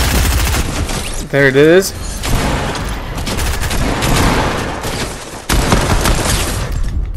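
Rapid, dense gunfire in Fortnite fills the scene, with repeated shots rattling nearly continuously and someone talking over the noise.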